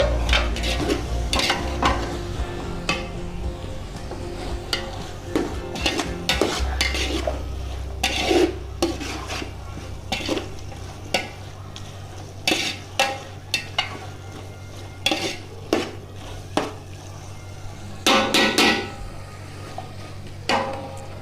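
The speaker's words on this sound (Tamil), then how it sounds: "கேரட்டு, பீன்ஸு, உருளைக்கிழங்கு இதில் போட்டு நல்லா மிக்ஸ் பண்ணுங்க." Carrot, beans and potato being mixed in a pot for white biryani made with parboiled rice, with repeated metal spoon scrapes and clanks against the pot over a low background hum and light sizzle, without talking.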